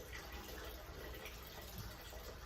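Water poured from a child's scooping cup back into a sink or tub during a toddler sink-or-float activity, a soft continuous splashing trickle, faint and close, with no voices.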